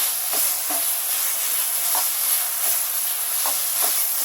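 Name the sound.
stirring chhana (cottage cheese) for sandesh in a pan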